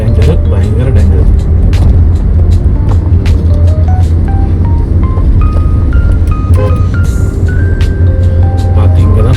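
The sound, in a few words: vehicle driving on forest ghat road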